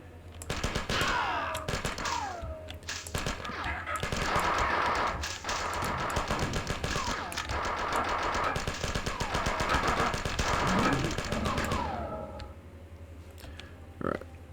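Rapid bursts of automatic gunfire from the classic Marathon video game on level 6, "The Rose", crackle almost nonstop with sharp clicking shots and other in-game effects, then ease off near the end.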